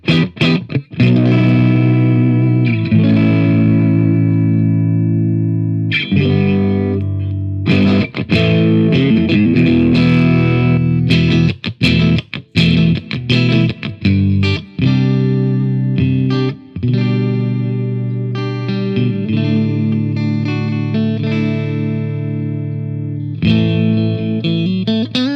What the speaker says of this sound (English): You get all the humbucker noises. You get all the clean tones you ask for.